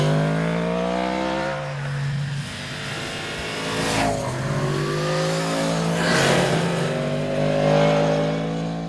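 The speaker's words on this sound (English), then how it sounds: "This new airbox, the new induction, sounds brilliant." A 2022 Yamaha MT-10 SP motorcycle engine roars loud and close with strong induction noise, revving up through gears with quick-shifter changes audible as brief dips between rising pulls.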